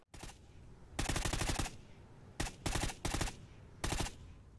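Honey Badger assault rifle from Call of Duty Ghosts fires in several rapid automatic bursts, each a quick rattle of suppressed shots separated by short pauses, close and punchy.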